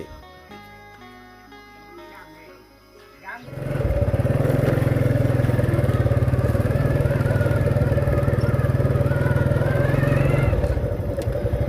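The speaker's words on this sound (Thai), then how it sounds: "ตอนนี้ก็กำลังขี่รถออกจากหมู่บ้านนะทุกคนเลย" A motorcycle starts up and rides out of a rural village, its engine rising to a loud, steady close-up drone that runs for several seconds before easing off.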